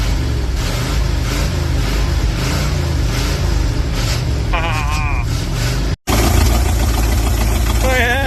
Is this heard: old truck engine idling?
yes